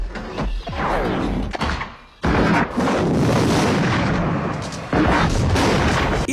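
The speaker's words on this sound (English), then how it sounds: "once a shot hits a target, it creates an area of effect explosion" Repeated heavy booming shots and blasts from the sniper rifle in the Sega Genesis game Metal Dragon, each hit setting off an area explosion, loud and dense with brief pauses between bursts.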